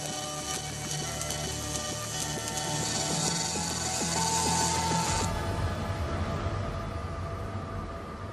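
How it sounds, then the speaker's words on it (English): An industrial welding robot in a Tesla car factory runs its programmed route, giving loud mechanical whirring and rapid ticking clatter with steady tonal hums, and the higher hiss drops away partway through. "The robot works out the most efficient route and runs the program."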